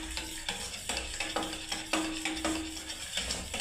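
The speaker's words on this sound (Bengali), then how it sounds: "সমানেই নাড়তে হবে" Besan halwa is stirred in a pan, a steady rhythm of spoon scrapes and soft clinks against metal roughly every half second, close up over a light sizzle, with no talking.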